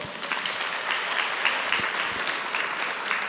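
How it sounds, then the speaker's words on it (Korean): An audience at a church gathering claps in a dense, steady round of applause that fills the room evenly throughout. "박수 한번 주세요."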